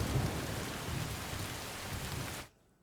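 Heavy monsoon rain pours in Gujarat as a dense, steady hiss with a low rumble underneath, then cuts off abruptly near the end.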